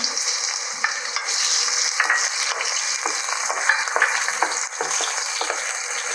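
Boiled vegetables and boiled chicken being fried in a pan for street-style mixed vegetable noodles, a steady close sizzle with light scraping stirs throughout.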